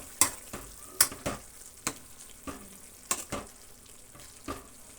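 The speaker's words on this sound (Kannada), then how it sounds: "ನಾವು ಆಲೂಗಡ್ಡೆ ನೋಡಿ ಪೀಸ್ ಮಾಡಿರೋದನ್ನು ಹಾಕೋಣ ಹಾಕಿ ನೀಟಾಗಿ ಕಲಸೋಣ" Potato pieces tumble into a hot pan for a potato curry and get stirred, sharp scraping clatters of a spoon repeating irregularly over a steady close sizzle, with no one speaking.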